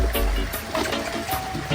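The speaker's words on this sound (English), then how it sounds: "there is almost always water running through here" Rain-swollen water rushing through a canyon trail at Lost Canyon in the Wisconsin Dells, a steady close wash of flowing water with no voices.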